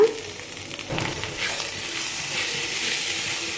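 Gongura leaves dropped into a pan of frying dried shrimp curry, Godavari style, bringing a soft sudden rush that swells into a bright, steady close sizzle and hiss with light stirring, no talk.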